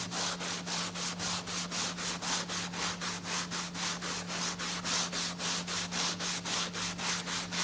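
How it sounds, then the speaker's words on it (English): A classic car seat is scrubbed to strip its dye, giving a steady back-and-forth rubbing rhythm of roughly three strokes per second, close and continuous over a constant low hum. "We just keep scrubbing that over."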